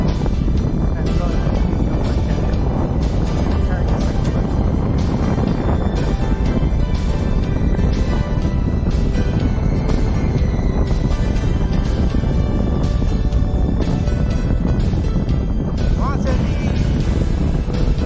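Strong wind roars steadily across the microphone during a family bike ride on a road still wet after rain, a continuous loud rush with someone speaking over it.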